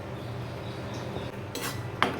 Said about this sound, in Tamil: இப்போ வந்து இந்த 2 கப் மாவையும் வறுத்துடலாம்.